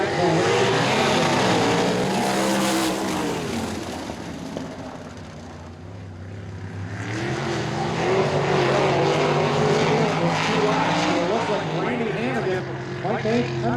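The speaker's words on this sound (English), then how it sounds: "Hopefully the drivers on the speedway remember that. White flag for Randy Hannagan." Sprint race cars roar around Ohsweken Speedway on the final lap of a dirt-track feature, engines loud and continuous as the field passes, fading briefly and swelling again, with an announcer talking over the noise.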